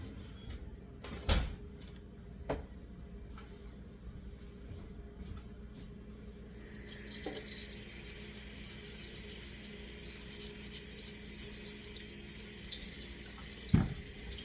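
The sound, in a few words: scrubbing potatoes under running tap water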